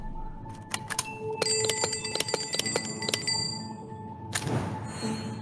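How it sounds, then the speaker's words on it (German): A golden glockenspiel chimes in a hidden-object video game, bright bell-like tones ringing out in a quick run of struck notes that sustain and overlap, followed by a softer whooshing shimmer near the end. "Goldenes Glockenspiel."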